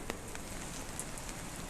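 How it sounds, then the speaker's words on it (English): Ice rain falls on a steep mountain trail climbing toward the Krimml waterfalls, a steady, faint hiss of fine pellets with a few sharper ticks. "it's ice raining now"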